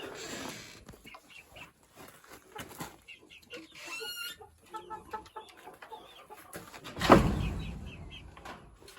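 Young chickens cluck and chirp in a small coop at the bottom of a family farm, a busy mix of soft calls with a louder burst of flapping and squawking near the end.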